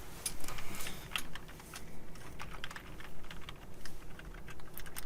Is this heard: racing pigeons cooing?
no